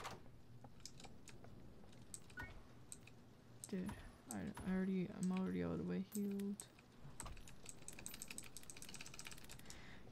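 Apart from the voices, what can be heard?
typing on a loud computer keyboard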